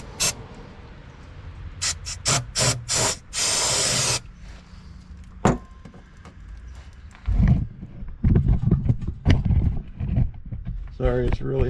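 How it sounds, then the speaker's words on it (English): Brake cleaner sprays in several short hissing bursts under a truck with a 6.5 Detroit diesel, then one longer sustained spray, close by, followed by clanking and rustling under muffled talk. "That was some brake clean and clean that up as best I can"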